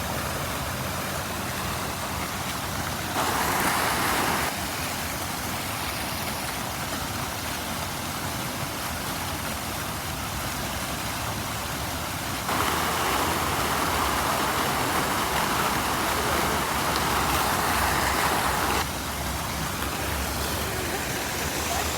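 A water fountain splashes in central Grozny as a steady, broadband rush of spray, swelling louder in two stretches, with city traffic blending into the background.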